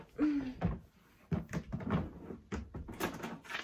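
A plastic art organizer drawer slides and knocks a few times, light clattering bumps of plastic on plastic with a quiet indoor feel and gaps between.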